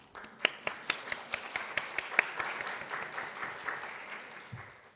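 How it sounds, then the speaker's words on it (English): Steady, evenly spaced claps ring out over a soft wash of applause, like a small audience clapping in rhythm, at an environmental science and policy forum. "Please give him a big round of applause."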